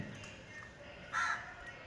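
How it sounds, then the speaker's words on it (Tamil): A single crow caws once at an outdoor feeding spot, a short harsh call rising above steady outdoor background noise. "காகைகள் ரொம்ப சிறப்பாக வந்து சாப்பிட்டுக்கிட்டு இருக்காங்க"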